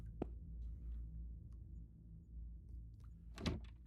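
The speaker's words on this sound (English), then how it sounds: "close up all the doors here" Doors shut in the horror game The Last Case of John Morley, with a faint thunk near the start and a louder closing thump near the end, set against quiet background noise.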